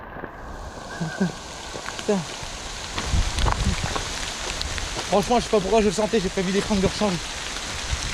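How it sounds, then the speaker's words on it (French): Heavy rain pours down on Réunion island, a dense, continuous hiss of drops on surfaces that swells louder midway through, with someone speaking French over it close by. "tellement qu'il pleut, il y a une cascade qui s'est formée"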